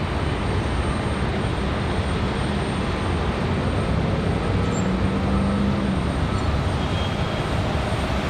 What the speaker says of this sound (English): We've got an A321 right here.